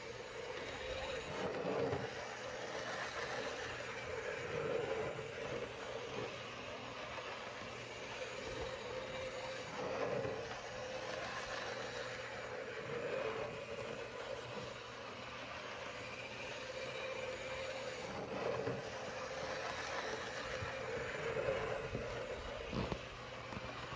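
An On30 scale model train with slightly dirty wheels rolls over a grade crossing on a coffee table layout, a quiet, steady rumble with occasional faint clicks and no talking.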